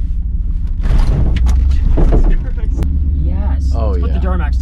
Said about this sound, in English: Gotta drive over the curb real quick.